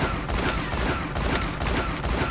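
Rapid hip-fire gunshots in the video game Warzone, a dense, loud burst of repeated shots sustained across the whole moment.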